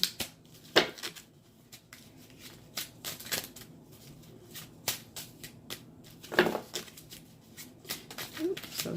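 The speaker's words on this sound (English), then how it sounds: "But I'm going to shuffle them." A stiff deck of tarot cards shuffled by hand at close range: an irregular run of soft slaps, riffles and sliding card noises, with occasional louder snaps and no talking.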